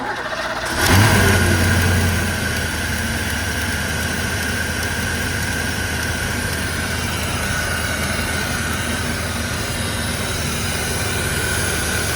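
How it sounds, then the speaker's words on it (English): A 347-powered 1985 Ford Mustang LX V8 cold-starts, cranking and firing with a loud, deep roar, then settles into a steady, rumbling idle that continues throughout. "We're gonna do a quick cold start video here"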